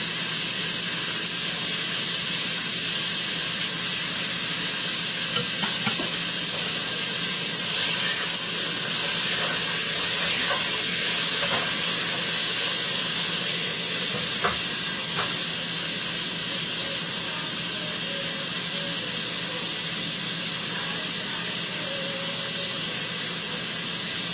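Meat for carne guisada searing in a hot pan, a loud, steady, continuous sizzle and hiss lasting the whole time with no talking.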